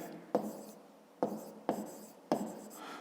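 A pen scratching on paper writes out a math answer by hand, heard as four short strokes with brief pauses between them, close and fairly quiet with no talking.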